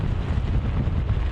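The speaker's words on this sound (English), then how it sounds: "Very windy there too, Evan, we can see." Strong hurricane wind at an ocean front buffeting the microphone, a loud, continuous low rumble with gusty surges and no speech.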